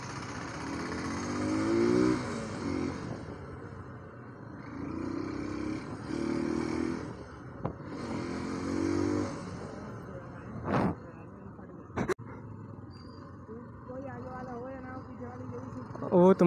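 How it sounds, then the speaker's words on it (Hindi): Motorcycle ridden fast through evening city traffic, its mid-pitched engine revving and droning steadily with surges, mixed with surrounding traffic noise and a couple of sharp brief bursts near the end. "आज तेज़ी चला रहा हूँ बाइक"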